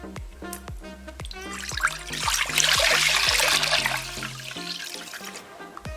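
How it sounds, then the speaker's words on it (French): About three litres of water pour into a container in a steady, gushing rush that swells to a loud splashing peak midway, then tapers off toward a trickle. "Vous versez à peu près 3 litres d'eau."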